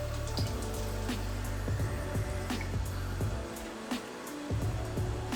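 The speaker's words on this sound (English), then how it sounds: "let the water rinse the inside of the tripa" Running water rinsing out the inside of raw beef tripe, a steady close splashing and trickling stream with drips and small spatters, briefly easing off before the flow resumes.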